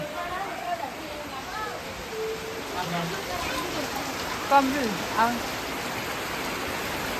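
Steady rain falling with a dense patter, while people talk over it in the foreground.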